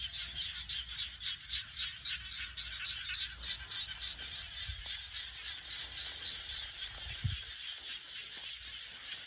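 A dense chorus of frogs croaks continuously in a rice field in a pulsing rhythm, with a couple of faint low thumps nearby.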